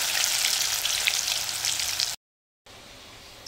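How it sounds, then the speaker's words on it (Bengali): Hilsa fish pieces fry in hot oil in a pan, giving a loud, steady crackling sizzle for about two seconds, then a brief silence before a quieter sizzle resumes. "আমি একটা একটা করে মাছ দিয়ে দেবো তেলের মধ্যে।"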